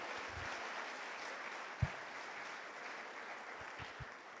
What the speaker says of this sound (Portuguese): E aplauda ao Senhor por isso.